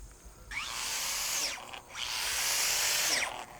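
Power drill boring holes into oak logs to plant shiitake mushroom spawn, heard as two sustained whining runs with pitch sweeps as the bit bites and releases, close and loud with a brief pause between.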